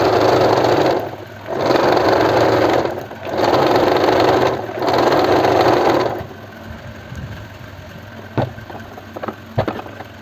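A sewing machine stitches a kurti in three long, loud running bursts separated by short pauses, then stops, leaving quiet room sound with a few faint clicks.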